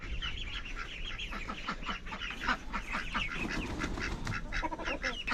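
Many ducks quack continuously in a noisy flock, overlapping calls from several birds at moderate distance with no speech.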